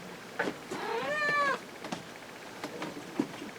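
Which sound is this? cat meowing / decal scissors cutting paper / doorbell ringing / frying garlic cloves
cat meowing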